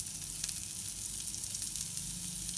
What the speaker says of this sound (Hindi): अब हम अनियन को ग्रिल करेंगे